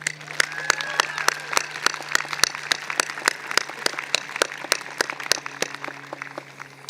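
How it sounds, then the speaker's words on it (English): University commencement audience applauding at an undergraduate graduation ceremony, steady dense clapping with crisp individual claps standing out over a low constant hum, sustained for several seconds. "Let's give him a round of applause."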